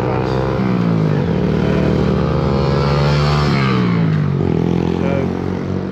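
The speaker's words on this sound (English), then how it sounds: "Pesky motorbikes going past." Loud motorbikes passing near a hotel on the Isle of Man, engines revving and droning as they go by, with falling engine pitch as each one passes close.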